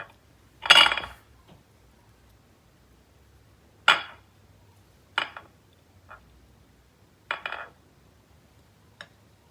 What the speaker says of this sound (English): So let's cut this and separate.